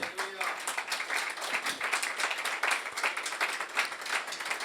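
Audience applause during a Christian sermon on prayer: dense, rapid clapping that holds steady for the whole stretch, with voices mixed in among the claps.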